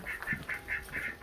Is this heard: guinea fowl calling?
yes